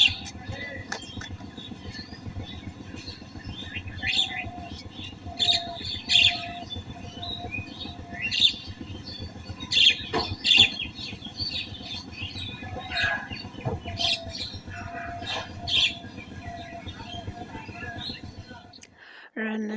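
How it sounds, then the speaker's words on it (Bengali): Small birds chirp and tweet on a rooftop, scattered short calls at moderate distance over a steady low background hum, with light breeze and no clear talk. "হালকা বাতাস আর পাখির কিচিরমিচির ডাক,"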